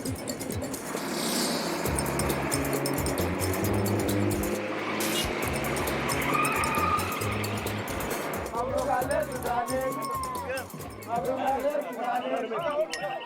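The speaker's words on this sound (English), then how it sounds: "my taxi driver has to fight his way through Khartoum's chaotic traffic" Taxi pushing through chaotic city traffic in Khartoum, Sudan, with a steady engine and road rumble under constant street commotion, clinks and distant chatter, and nearby voices talking throughout.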